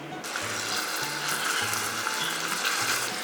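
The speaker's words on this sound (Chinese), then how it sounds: "先把肉末炒一下。" Minced meat stir-fries in oil in a hot clay pot, a continuous close sizzle with a spatula scraping the pot in a regular rhythm of short strokes, no talk.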